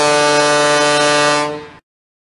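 Toy fire engine horns blare in a loud, sustained honk for nearly two seconds, with no voices, then stop sharply.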